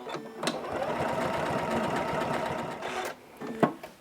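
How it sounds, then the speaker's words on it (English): A Janome CM17 sewing machine runs a triple stitch in one continuous rhythmic whir of about three seconds, then stops with a few small mechanical clicks, close and fairly quiet. "here's my little triple stitch that I've got going there"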